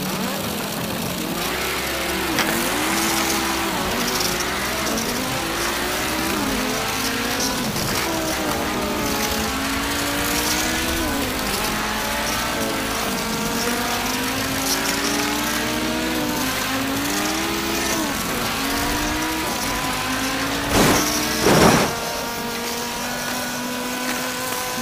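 Small motorized diecast cars racing side by side on a track, a loud, continuous buzzing motor whine that rises and falls in pitch again and again, with a couple of sharp clatters near the end.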